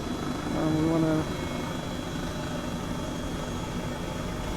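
Airbus H135 helicopter in Microsoft Flight Simulator 2020 settling into a steady landing, a continuous rotor and turbine drone with a brief louder swell early on, voices present beneath it.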